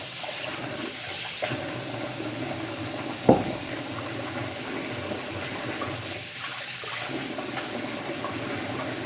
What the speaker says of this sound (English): I'm gonna give it a quick wash anyway.